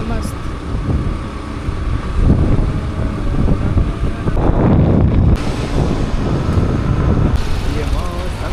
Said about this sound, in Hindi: हवा चल रहा है मस्त।